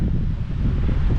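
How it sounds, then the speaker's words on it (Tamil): Steady wind blowing across an open ridge in Romania's Piatra Craiului mountains above a valley, a continuous low buffeting rush with microphone wind noise and no voices. "காற்று"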